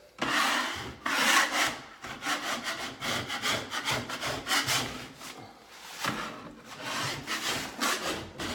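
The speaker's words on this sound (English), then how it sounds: "if I do this with a metal scraper, let me show you the difference" A metal scraper shaves wallpaper off a wall in rough, rasping strokes. The bursts are uneven and close, with brief pauses between passes and no one speaking.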